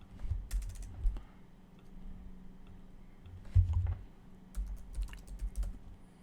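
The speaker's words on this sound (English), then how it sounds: "let's type this out" Fingers type on a computer keyboard in irregular bursts of soft, close clicks and taps, with short pauses between clusters and a heavier thump near the middle.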